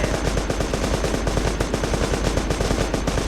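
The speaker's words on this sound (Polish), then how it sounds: "już tam strzelam w niego" Rapid automatic gunfire aimed at a light armoured reconnaissance vehicle in the Terrorist Takedown video game, a dense, continuous rattle of shots at a steady fast rhythm with no pauses.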